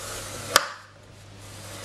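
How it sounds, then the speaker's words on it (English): Two sharp, brief clicks, well apart, as a tool scores cardstock for a gift box, close and clear over a quiet background. "we're gonna score it on all four sides exactly the same"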